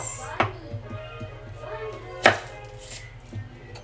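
Onions being sliced with a knife on a board for embotido, a few sharp separate chops spaced apart, close by, with faint background noise between.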